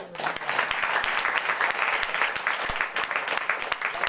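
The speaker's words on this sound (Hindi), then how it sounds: "जोरदार ताली से" Loud, dense applause from a church prayer-meeting congregation, steady clapping filling the space for about four seconds with no talk over it.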